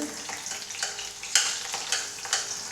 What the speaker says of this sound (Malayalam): ഇനി നമ്മൾക്ക് ആ നടുകെ കീറിയ പച്ചമുളക് ഇങ്ങനെ ഇതിലേക്ക് ഇട്ട് കൊടുക്കാം